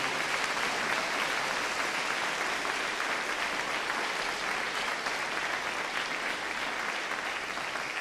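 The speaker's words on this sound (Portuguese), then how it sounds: "Um aplauso para o Senhor, irmão, por isso, pelo amor de Deus." A church congregation breaks into sustained applause during a worship service, a dense, even wash of many hands clapping that holds steady for several seconds with no speech over it.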